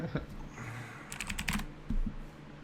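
Rapid clatter of keys on a computer keyboard comes in short bursts and clusters of clicks at a tabletop role-playing game session, close and fairly quiet, with faint background voices.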